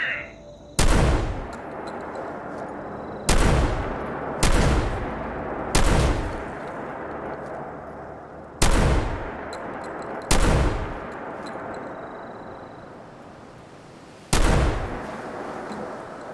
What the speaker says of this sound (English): I'm doing this with a shotgun.